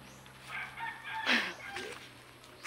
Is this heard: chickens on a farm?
yes